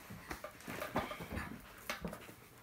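A dog whimpers and pants softly during an indoor crawling ball game, giving quiet, close whines and breathy sounds with faint shuffling and movement around it.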